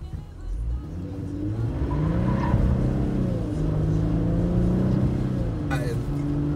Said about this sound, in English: it does have enough power to break the wheels loose on the road a little bit there